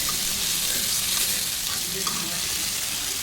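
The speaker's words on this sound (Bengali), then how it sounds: "ওই একই তেলে আমি মেরিনেট করে রাখা মুরগিটা এবং আলুটা দিয়ে আরও কিছুক্ষণ এটাকে কষাবো" Marinated chicken and potato frying in oil, a steady, close, dense sizzle with faint stirring, constant in level throughout.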